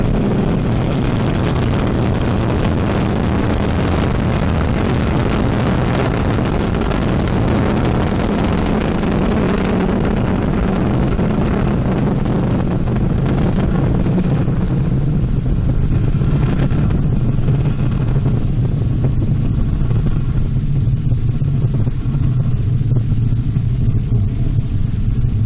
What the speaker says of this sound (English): The roar of her engines, a lot of fire